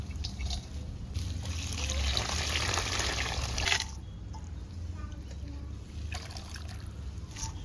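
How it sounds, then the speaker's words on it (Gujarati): Vaseti greens being washed in water in a home kitchen, a steady splashing and trickling rush that swells for a few seconds, then settles into softer sloshing, close and alone. "તો ફટાફટ વાસેટીની ભાજી ધોઈ નાખીએ."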